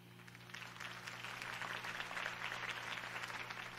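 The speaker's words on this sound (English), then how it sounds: "If only Mr. Wayne, my campaign's largest backer, could have heard that applause" A crowd in the video game Batman: The Telltale Series applauds steadily at a distance, a continuous wash of clapping with a low constant hum underneath.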